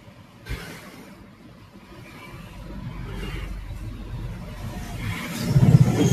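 Road traffic on the Chhatrapati Sambhajinagar to Ahilyanagar road, with cars and two-wheelers passing, rumbling and whirring at moderate distance, an engine swelling louder toward the end; no talk.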